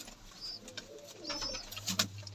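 Pigeons coo inside a loft, soft low throaty calls rising near the end, with light rustling and a few faint higher chirps around them.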